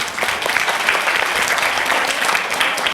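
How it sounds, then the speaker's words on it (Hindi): Steady, dense applause from an audience at an Anjuman E Rabiya annual jalsa gathering, filling the whole moment at an even level with no voices over it. "ज़ोरदार तालियां हो जाए"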